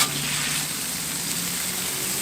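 Smash burgers sizzling on the hottest part of a hot griddle, with a steady, even hiss of frying that carries on without a break and without any talking.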